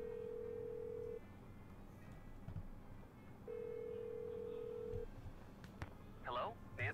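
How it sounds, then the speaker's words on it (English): Phone dialing in the Nancy Drew: Legend of the Crystal Skull video game, two steady electronic tones each held about a second with a pause between, over quiet background ambience, followed by brief higher beeps. "Aha! I shall call Ned."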